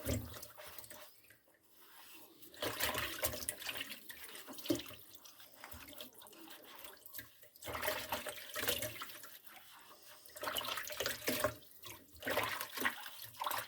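Running water splashes and streams in a sink while dishes are washed by hand, intermittent bursts of flow and clatter close by, without speech.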